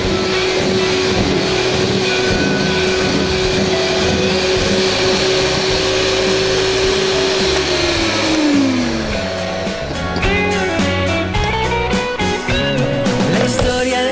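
An electric mixer beats egg yolks for a lemon sponge cake, its steady motor whine holding level, then dropping in pitch as it slows near the end, with music playing alongside.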